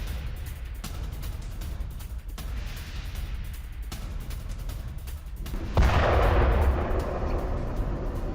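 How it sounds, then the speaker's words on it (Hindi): Distant booming blasts from a late-night missile strike sound against a steady rumble, then a heavier, louder explosion erupts partway through and keeps roaring. "मिसाइल अटैक के बाद क्रिवरी में कैसे हुआ धमाका"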